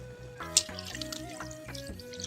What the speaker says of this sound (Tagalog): Pwede natin ilagay yung gata na pangalawa